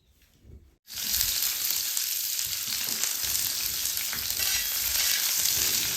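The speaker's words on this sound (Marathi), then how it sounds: "कांदा आपल्याला लाल सोनेरी कलर येईपर्यंत भाजून घ्यायचा।" Chopped onion sizzles in oil on an iron griddle over a wood-fired stove: a loud, steady frying hiss bursts in after a brief quiet start and holds evenly to the end, with no voices.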